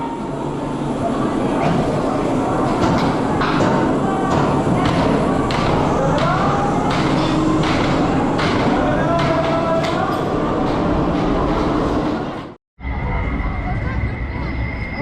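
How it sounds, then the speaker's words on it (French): Amusement park ride train at Parc Astérix rolling back into the station, a steady loud rumble with repeated thumps and clatter for about twelve seconds, a short break, then a fainter steady hum; voices are mixed in. "on appelle le train de façon à ce qu'il puisse revenir en gare"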